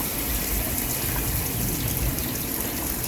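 An aquarium water pump runs in a goldfish tank, giving a steady, continuous gushing and bubbling wash of water that stays even throughout, close by and alone.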